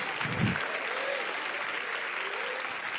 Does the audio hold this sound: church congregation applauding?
yes